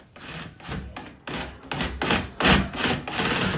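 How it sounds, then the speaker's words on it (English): A handheld power drill runs in short repeated bursts, driving a bracket into the inside wall of a ceiling light fixture with grinding, rasping texture, close and fairly loud. "we're just drilling it to the inside of the ceiling fixture wall"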